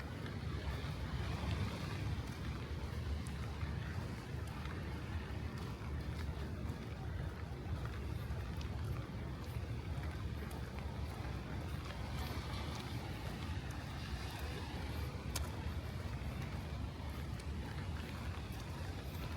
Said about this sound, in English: Still raining. I don't know if you guys can hear.